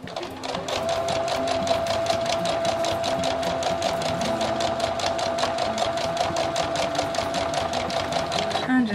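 A sewing machine runs steadily, close and loud, back tacking stitches while finishing the bias binding on an apron, its fast regular needle rhythm holding for the whole stretch with a steady hum beneath, and a voice talks over it.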